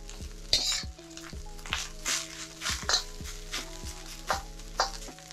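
Rice sizzles in a hot pan while a spatula spreads and flips it. Scraping and stirring strokes come at an uneven pace over a constant frying hiss, close up and with no talking.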